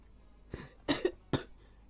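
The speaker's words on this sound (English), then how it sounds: "Sorry for coughing right anyway." A person coughs three times at fairly close range, short dry bursts over quiet background with no talking.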